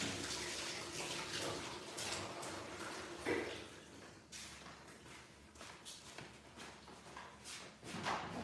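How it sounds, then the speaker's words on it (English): A tap runs steadily as hands are washed, a constant hiss of flowing water with small splashes, moderately close and alone without talk. "Anytime you hear water running, I'm washing my hands."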